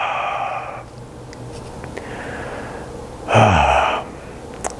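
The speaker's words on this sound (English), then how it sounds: "Exhale when you need to." Breath exhaled during a tantric breathing exercise: a long breathy exhale at the start, a pause with faint breathing, then a sharper, louder forceful exhale near the end, close and alone.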